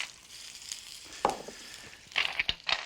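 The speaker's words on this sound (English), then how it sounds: "You'll hear the juices hit the hot pan." Live clams going into a really hot pan to sauté, giving a brief quiet sizzle with a few sharp crackles and clicks of shells toward the end.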